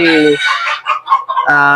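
Roosters crow loudly and close at a game farm in San Ildefonso, Bulacan, with two long harmonic crows framing a burst of clucks and squawks from chickens in between.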